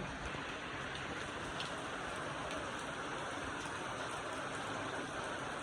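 Steady, dense rain falls continuously outside a house, with an even hiss and soft patter, fairly quiet, with no voices or other distinct sounds.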